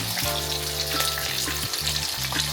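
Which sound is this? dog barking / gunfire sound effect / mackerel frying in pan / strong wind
mackerel frying in pan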